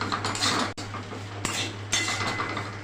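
Potatoes being stirred in a metal pan while cooking with cumin powder, a spoon scraping and clinking against the pan several times over a steady low hum, fairly quiet and close.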